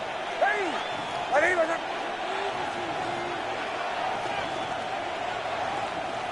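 Dense, roaring crowd noise fills an American football stadium during a first-and-goal play in the red zone, a steady loud wash with a few whistles and shouts rising over it, with a commentator talking.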